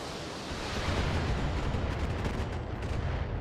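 Heavy mech weapons firing in the BattleTech video game, a dense, loud roar of gunfire and explosive rumble sustained throughout with no talk.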